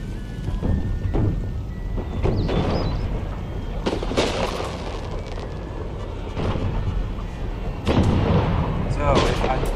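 Cannon artillery volleys thunder in Empire: Total War, repeated deep booms rolling over constant battlefield noise, with heavy blasts recurring throughout and a louder surge near the end.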